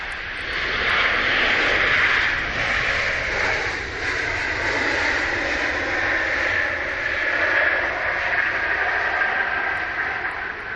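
A passenger jet arriving from Palma at Manchester International Airport passes close and loud, its engine roar swelling with a strong whining midrange, wavering slightly as it goes by, with no talk over it.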